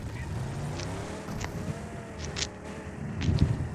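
Car engine droning steadily through a video game battle, with brief clicks and thumps over the low rumble and no clear speech.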